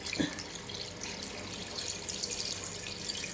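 Water pours steadily into a pot of clam soup (tinolang tulya) on the stove, a continuous splashing trickle close by with no talking.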